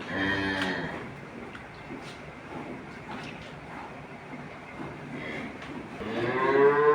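A big Holstein Friesian dairy cow moos twice, one call at the start and a louder, longer one at the end, with a quiet barn background in between.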